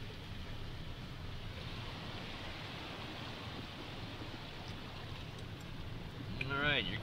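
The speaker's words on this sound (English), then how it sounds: "So this is a sinking creek." A sinking creek rushes steadily nearby in a continuous broadband wash, with a brief clatter near the end.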